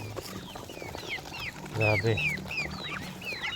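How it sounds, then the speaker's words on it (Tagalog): Ducks on a Philippine farm, a large flock of grown ducklings, give repeated raspy calls near and far while someone talks in Tagalog over them. "sobrang dami na natin mga kabatang na pato"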